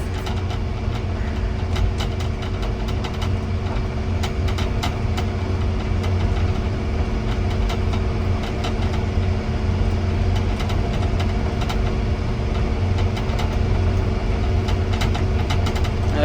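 A motor grader's diesel engine runs continuously at a steady, loud rumble with a knocking mid-range throb and light vibration, close by and unbroken throughout, with no talk.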